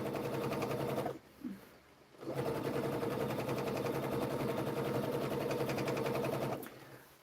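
A sewing machine stitches with colored thread in a fast, close, steady mechanical whir, stopping briefly near the one-second mark and again just before the end.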